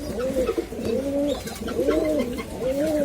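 A pair of Prince Kamagar pigeon chicks cooing up close, soft rising-and-falling coos repeating roughly every second in a quiet room.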